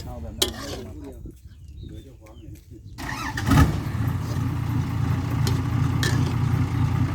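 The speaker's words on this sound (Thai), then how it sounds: "ก็สตาร์รถนะครับ อุ่นรถก่อน" A car engine is started and then idles to warm up: quieter rustling and faint voices first, then the engine catches with a sharp burst and settles into a steady low rumble, with people talking nearby.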